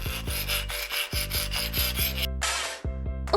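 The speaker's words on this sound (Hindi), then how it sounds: "ओह नहीं, मेरी आरी ज्यादा दूर नहीं गई।" A hand saw rasps back and forth against metal jail bars, with steady rhythmic strokes, a brief pause midway, then a bright burst of scraping near the end, loud and close with no talking.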